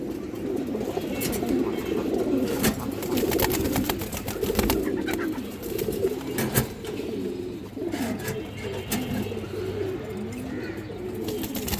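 Khaki-throated pigeons coo repeatedly at close range, their soft rolling calls overlapping among other pigeons, with rustling and occasional sharp knocks in the background.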